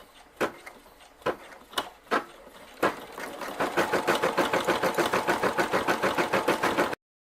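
A sewing machine embroiders a message onto a quilt, starting with a few separate loud clunks before settling into a fast, even, rhythmic stitching chatter, close and loud with no voices.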